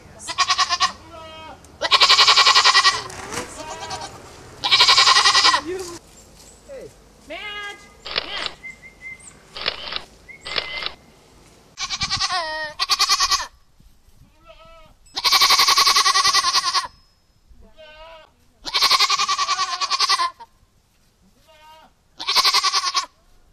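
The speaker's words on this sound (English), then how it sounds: "we have a mixed herd of dairy goats, mohair goats, and pet goats" Dairy, mohair and pet goats in a mixed herd bleat in a barn, loud repeated calls in overlapping bursts from several animals close by, with short gaps and a few quieter bleats between.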